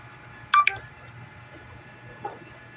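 Two short bright electronic chimes in quick succession, then a fainter tone a moment later, over quiet background hiss; Messenger app notification sounds.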